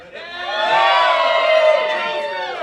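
A studio audience at a game-show taping erupts in loud, sustained cheering and whooping that swells and holds for a few seconds, with no clear talk over it.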